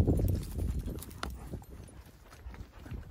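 Horse hooves clip-clop at a riding pace while a rider heads out to check cattle at a canyon branding, steady close footfalls with faint ambient noise and no talk.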